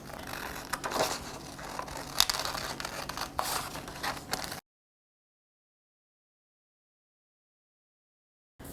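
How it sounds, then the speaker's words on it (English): Scissors cut out a paper pattern for a quilt applique, giving close crisp snips and paper rustling for about four seconds before the sound cuts to silence. "start to cut it out using the scissors"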